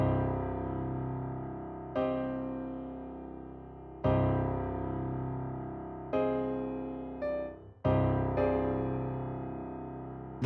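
Dark trap-style beat melody loop with its middle note pitched up, a sustained synth-like phrase repeating in roughly two-second chords with a small dropout before the final restart, playing alone at moderate level with no talk.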